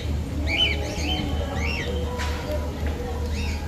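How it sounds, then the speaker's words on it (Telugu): Live birds at a marine expo chirp in short repeated tweets over a steady crowd murmur and low hum, with voices talking in the background. "లైవ్ బర్డ్స్ అన్నారు కదా"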